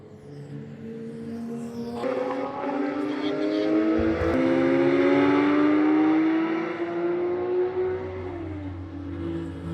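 Porsche Cayenne on the Raceway Baltic race track at Ropaži, launching hard under launch control, its engine note rising steadily through the gears, loud and close, with a shift around the middle and talk mixed in.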